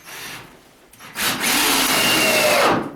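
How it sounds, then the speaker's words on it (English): A power drill bores through wood to make holes for lag bolts while a workbench is built in a new wood shop. After a quiet start, a loud, steady grinding whir runs to the end, close and alone. "I'll have to drill through and put lag bolts in there."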